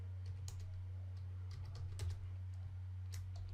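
Steady clicks of typing on a computer keyboard, irregular keystrokes close by over a constant low electrical hum, with no talking.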